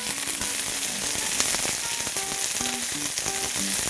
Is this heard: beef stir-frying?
yes